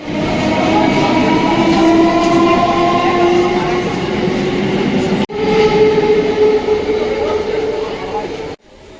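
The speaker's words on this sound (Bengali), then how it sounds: "ট্রেনটা এই মুহূর্তে ছেড়ে চলে যাচ্ছে শিয়ালদাগামী হয়ে" A Sealdah-bound local train pulls away from a market-side station, its loud, steady rumble and rail noise filling the scene with brief breaks, while people talk nearby.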